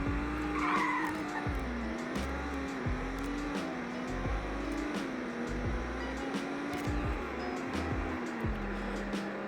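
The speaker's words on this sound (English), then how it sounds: "here is a 0 to 100 test in the Supra" A Toyota Supra in the Roblox game Greenville Wisconsin runs a 0 to 100 acceleration test, its engine note droning steadily and rising through gear shifts, with tire squeal and skid noise throughout and no talk over it.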